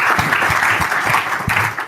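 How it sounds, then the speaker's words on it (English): An audience claps and cheers for an athlete at an investment-focused event, a loud, dense burst of applause that carries on steadily for a couple of seconds before starting to fade. "You guys give a round of applause to Cain."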